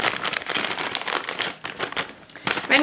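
A crinkly plastic bag of dried meat dog chews is handled and opened, giving close, irregular crackling and rustling bursts with brief pauses.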